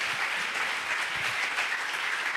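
A congregation applauding inside a church during a Pentecost service, a steady, dense wash of clapping that holds at an even level throughout, with no talk over it.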